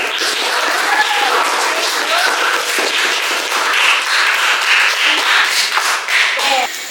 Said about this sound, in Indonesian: Oke, kita beri aplaus dulu untuk Jun